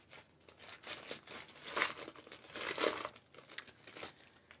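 A wrapped candy treat package being opened by hand, with close crinkling and crumpling wrapper sounds in irregular bursts, two louder crackles standing out, and no talking.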